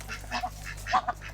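Ducks quacking in a yard with chickens nearby, a few short nasal quacks and honks in quick succession, close and fairly clear over quiet background.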